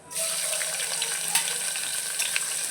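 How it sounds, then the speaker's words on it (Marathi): Green chilies crackle and sizzle in hot oil with a steady, dense hiss, close and continuous, with a few sharper pops and stirring scrapes over the fry, while vegetables are cooked. "तेलामध्ये आता मी मस्तपैकी मिरची तळून घेते"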